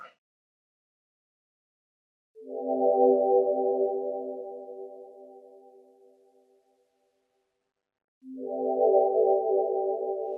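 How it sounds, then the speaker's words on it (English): Omnisphere synth patch with a chorus echo effect: two sustained, layered harmonic tones, the first swelling and slowly fading over several seconds, the second entering after a pause, alone against silence. "Let me do this chorus echo instead."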